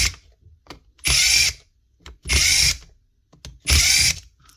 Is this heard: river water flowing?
no